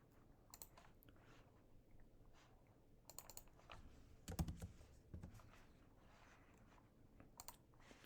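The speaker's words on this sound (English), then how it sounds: "Sorry for pounding on a keyboard." Someone types on a computer keyboard close to the microphone, with quick irregular bursts of clicking and a few harder key strikes, quiet overall.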